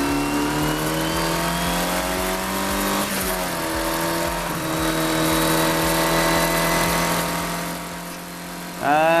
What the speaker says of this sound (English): The car is just a few miles an hour faster, and now I'm in the slipstream for Paul